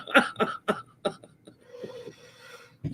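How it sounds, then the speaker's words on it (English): A rapid run of four or five harsh coughs comes close up, followed by quieter muffled noise and one last cough. "he's going to get me coughing"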